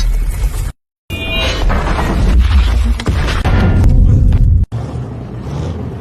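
Booming tank cannon fire and explosions in a war film, loud and dense with heavy low rumble, a sudden brief cutout of sound, then further blasts and rolling roar.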